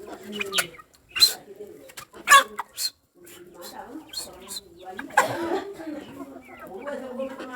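Sick chicks peep in short, sharp, high bursts while being treated in a salt-water bath, near and fairly loud, with some chicken clucking and a voice talking over them.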